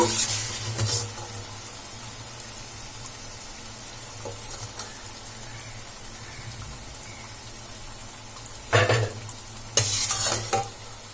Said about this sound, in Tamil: நம்ம மீதி இருக்க மாவை இதே மாதிரி எண்ணெயில போட்டு பொரிச்சு எடுத்துடலாம்